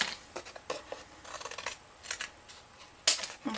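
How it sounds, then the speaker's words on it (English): Scissors snipping plastic tabs off toy doll packaging, a series of sharp, close clicks and snips in an irregular rhythm, with one crisp louder cut near the end. "we're going to take our pair of scissors and we're going to cut these tabs off"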